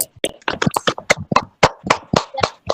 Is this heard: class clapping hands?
yes